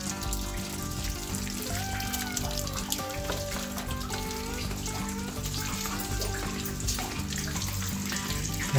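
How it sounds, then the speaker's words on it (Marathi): Water drips and seeps inside the Kasarsai volcanic lava tube near Hinjwadi, a continuous trickle with scattered splashes echoing softly at moderate level, no voices present. "इकडे पाणी पडतं आहे"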